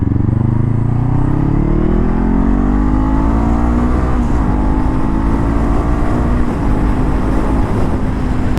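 A Honda CB500F motorcycle with an Akrapovic exhaust roars continuously and loudly, its engine note climbing steadily in pitch as it pulls hard through acceleration, with no talk over it.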